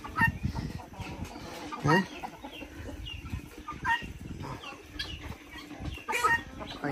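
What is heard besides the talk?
chickens and roosters clucking on a farm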